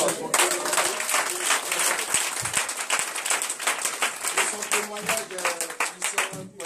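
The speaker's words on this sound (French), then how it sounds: "Est-ce qu'on peut acclamer Jésus" A church congregation applauds for Jesus, clapping steadily and enthusiastically in a fairly dense, sustained round of applause, with voices calling out under the clapping.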